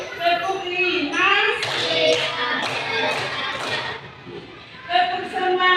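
Schoolchildren in an elementary classroom clap in a counted rhythm, a few sharp claps standing out among children's voices and chatter.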